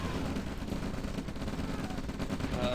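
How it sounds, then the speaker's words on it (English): Artillery firing in the real-time strategy game OpenRA comes as a dense, continuous barrage of booms and rattling gunfire, loud and unbroken throughout. "Artillery taking some good shots here and there."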